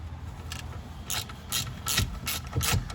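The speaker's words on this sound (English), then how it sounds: "then we're going to loosen the bolt for the ball joint" A ratchet with a 17 mm deep socket loosens the ball joint bolt on a 2001–2005 seventh-generation Honda Civic, clicking in about five quick close bursts.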